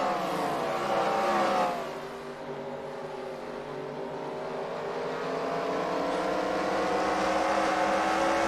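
Dirt track race cars roar around the oval at Devils Bowl in Texas, a dense, loud engine drone with layered revving from several cars passing close, swelling steadily with no voices.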